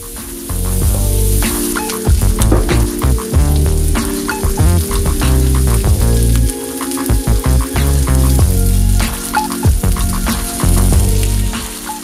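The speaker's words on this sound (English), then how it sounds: "and minced garlic. I'm going to saute this for about 5 minutes." Onion and minced garlic sauté loudly in a pan for a vegan pot roast, a close, dense sizzle with repeated stirring scrapes and bursts throughout, and no voices.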